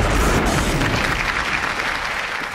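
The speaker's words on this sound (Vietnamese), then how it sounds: "Vỗ tay cho Thái Trinh." Studio audience on a Vietnamese quiz game show bursts into brisk, loud applause that fades slightly toward the end, with no talking over it.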